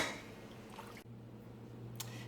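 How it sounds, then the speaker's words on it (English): Tomatoes being canned, cooled by dropping them into a bowl of cool water, making a soft, faint wet squish and slosh early on and a small drip near the end, with no talking. "I've got the last of my tomatoes going into the cool water to take the heat out of them."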